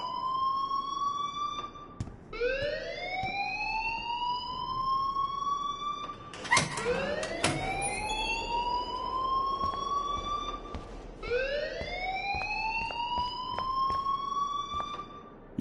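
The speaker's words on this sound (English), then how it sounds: "please turn off that alarm since that's your job" A wailing alarm in the Life is Strange video game, repeated rising siren sweeps that climb and hold, several cycles with a few sharp clanks in between, loud and close.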